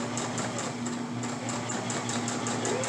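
Sewing machine stitching a fabric face mask strap, a steady close mechanical hum with rapid even needle ticks running throughout, no talking.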